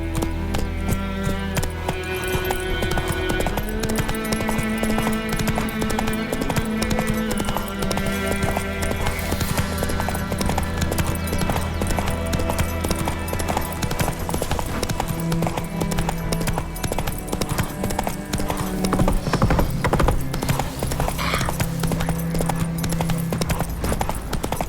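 Roach, the horse in The Witcher 3, gallops in a steady rapid clip-clop of hooves over a bed of game music, with a brief shout over it.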